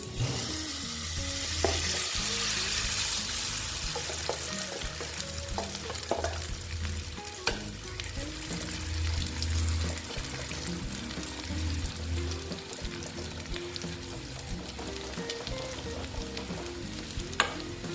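Egg batter for a bread-and-egg dish goes into a hot pan and sizzles continuously. Scattered stirring clicks and light clatter sit over a low background hum, with no voices.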